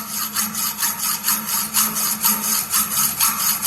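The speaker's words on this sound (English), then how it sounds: "place the hacksaw just over the mark, and then you should start with cutting" Hacksaw cutting through a galvanized iron pipe, steady back-and-forth rasping strokes in an even rhythm, close and loud, with no talking.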